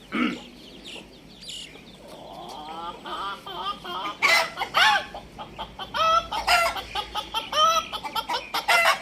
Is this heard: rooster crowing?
yes